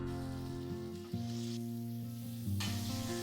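Food sizzles steadily on the griller side of a 2-in-1 pan, a continuous frying hiss beneath prominent background music with sustained tones.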